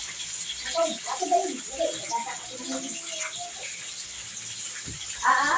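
Water runs steadily, as if filling a tub, a constant hiss under scattered nearby voices and clatter.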